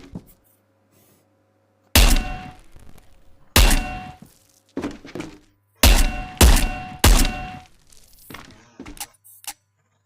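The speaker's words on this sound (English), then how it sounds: "flip the box over the table, and press trigger on the same hand to drop the amount of exposed ammo" Ammo shells dropping onto a table in the VR game Ghosts of Tabor, a series of sharp close thunks and clinks in irregular clusters with quiet gaps between.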